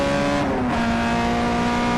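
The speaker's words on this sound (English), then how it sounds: "Heading back down the pit road goes one of the many 2-litre Renault Clios that we've got in the field." A 2-litre Renault Clio race car rolls down the pit road at Donington Park, its engine droning steadily at moderate distance, with a faint pitch shift as it moves along.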